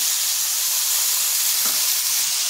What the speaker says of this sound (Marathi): हे आपल्याला चांगले सॉफ्ट होईपर्यंत परतून घ्यायचे